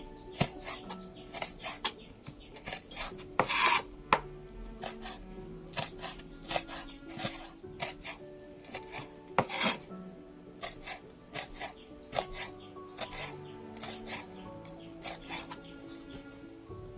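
Chilies with seeds removed are sliced thinly with a knife on a board, making a steady run of quick, close, crisp cuts and light scraping taps, mostly alone with no talking.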